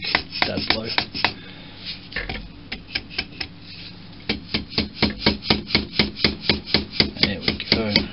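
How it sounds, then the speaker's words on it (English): A rubber or plastic dead blow mallet strikes a part of a 1946 Boxford lathe being disassembled, giving a run of dull, close knocks that start irregular and settle into a steady, rhythmic series of blows. "Let's give it a bit of a bonk with the rubber or plastic dead blow."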